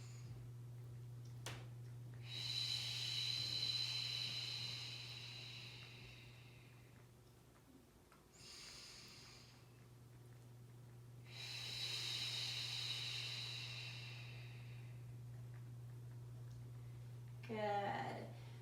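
Steady breathy exhales during an inner core breathing exercise, two long hissing breath-outs about five seconds each with a shorter one between, fairly close and soft over a constant low hum, ending with a brief sharp breath.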